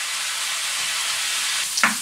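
Beet caviar mixture with tomato paste stewing in a pan, giving a steady close sizzle and hiss throughout, with a brief clink of stirring near the end.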